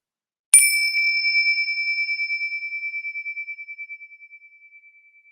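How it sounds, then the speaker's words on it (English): A single bell is struck once, ringing out clearly with a pure tone that slowly wavers and fades to near silence over several seconds. "let's just hear this bell as the sound fades away"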